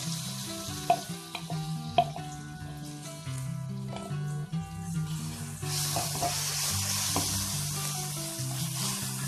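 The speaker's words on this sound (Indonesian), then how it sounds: "Itu kita akan menumis bumbunya. Itu ada sedikit minyak" Spice paste sautéing in a little oil in a pan while making chicken lemper, a steady close sizzle with stirring clatter and a few sharper clinks of the utensil, no talk.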